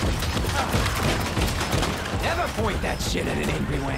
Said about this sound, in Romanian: avem o armă care trage cu artificii